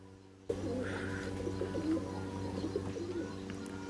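A homing pigeon kept at home, a blind female, coos in a low, throaty, repeated rhythm close by, with a few faint chirps from other birds in the background and no speech.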